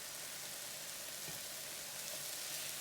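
Small-cut sausage pieces fry in a rice pot, giving a steady, close sizzle with soft crackle throughout and no talking.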